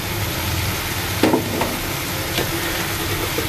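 Baim fish dropped into hot oil and cooked-down masala in a pan, giving a steady close sizzle with a brief burst of louder crackling as the pieces land, then settling back to an even fry.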